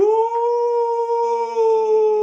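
A dog howls in one long, sustained, steady tone, loud and close, with a second lower voice joining toward the end.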